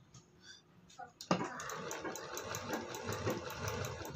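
Home sewing machine stitching doubled piping onto a full-sleeve blouse, starting with a few faint clicks before a sudden jump into a steady, close whirring run with rapid needle ticks.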